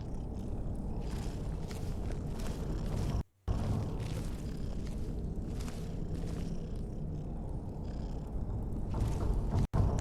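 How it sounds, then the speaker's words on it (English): A cat purring in Skyrim, a deep, continuous rumbling purr heard close and loud, interrupted by two brief silent gaps, with no speech over it. "That's a cat."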